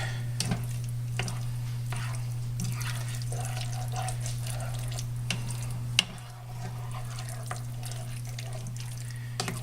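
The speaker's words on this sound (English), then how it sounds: "now we got to mix this nice and gently" A cheesy potato and andouille casserole is gently mixed in a big pan, with soft wet stirring and occasional scrapes running continuously over a steady low hum, plus one sharp knock partway through.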